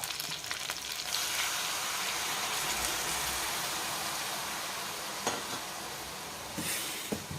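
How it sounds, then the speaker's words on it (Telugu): Onion paste sizzling and frying in a pan, a steady, loud hiss that runs the whole way through with a few faint stirring clatters. "పెద్ద ఉల్లిపాయ పేస్ట్ వేయించుకోవాలి, లేకుంటే పచ్చివాసన వస్తాయండి"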